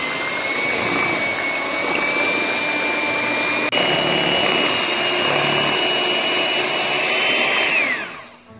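Electric mixer beating vanilla cake batter for a banana pudding poke cake, a steady close whirring motor whine lasting about eight seconds before winding down, with no talk.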